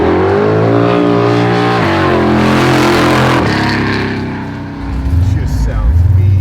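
Loud, close rumble of a 700 hp Dodge Coronet 440 Hemi drag car with open exhaust, revving and shifting pitch before surging again, with people talking nearby.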